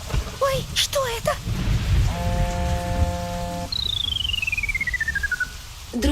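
Cartoon thunderstorm with steady rain hiss, under character voices, whistling tones and a descending synthetic sweep near the end.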